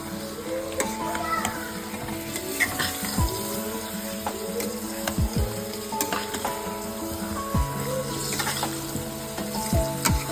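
Chicken pieces frying in a pan for chicken curry, a steady close sizzle with stirring clatter throughout, while children's voices and other talk carry on in the background.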